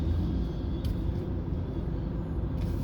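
Low, steady rumble of road traffic heard faintly from a distance, a continuous drone with no distinct passing vehicles.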